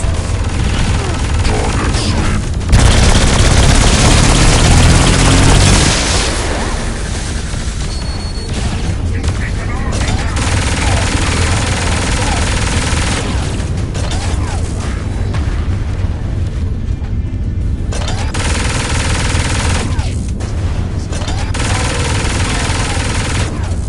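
Repeated explosions and gunfire boom through a Saints Row IV battle, loud and dense across the whole stretch, with a thick burst early on and voices speaking briefly among the blasts.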